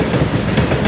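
A long train rolls past on the rails, loud and close, with a continuous rumble and rhythmic clatter of wagon wheels and no voices.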